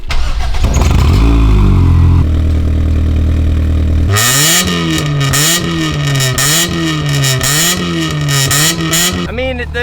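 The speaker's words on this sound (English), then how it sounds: "the exhaust don't sound bad" Honda Civic engine starting with a new aftermarket exhaust, a crank then a loud catch and repeated revs rising and falling with a raspy tone, close to the car.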